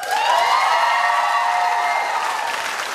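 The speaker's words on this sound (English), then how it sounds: "You can applaud." At the live 2012 Big Brother Australia broadcast, the studio audience gives a short, loud burst of applause with cheering that fades slightly after three seconds.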